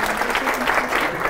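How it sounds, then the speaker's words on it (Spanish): Sustained applause from an audience at a dental conference presentation in Barcelona, a steady, dense wash of clapping filling the whole moment. "Un aplauso para este doctor aquí"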